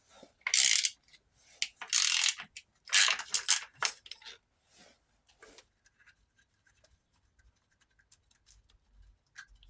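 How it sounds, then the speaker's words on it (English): A bolt on an engine stand is worked loose with a wrench, giving a few close, sharp bursts of metallic clicking early on that fade into sparse faint ticks and near quiet. "we're taking this bolt and just seeing if she pops loose"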